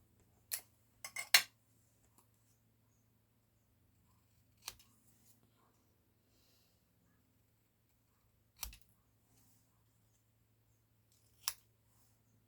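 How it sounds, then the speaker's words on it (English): Sharp scissors snip the end of a paper birthday banner to flag it: a quick cluster of three or four cuts, then single snips spaced a few seconds apart, close and crisp in an otherwise quiet room. "We just need to flag this end with some snips."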